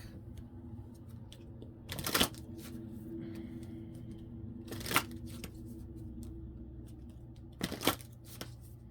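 Tarot cards are shuffled from a deck in a quiet room, giving three brief riffling bursts spaced a few seconds apart, with faint handling sounds between them.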